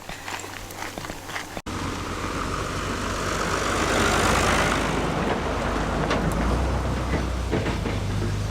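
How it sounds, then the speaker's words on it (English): A tractor approaches along a road on the Camino Frances near Ledigos, its engine rumble swelling steadily louder after a few footsteps, holding a low continuous drone as it nears. "On a tractor, coming up."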